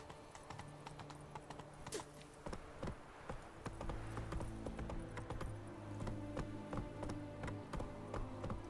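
Horse hooves galloping in The Witcher 3, a fast steady clip-clop of hoofbeats that grows louder and heavier partway through, over faint background game sounds.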